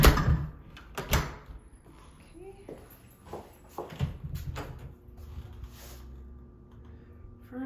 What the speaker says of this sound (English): I'm gonna close this door so nobody sneaks in on me.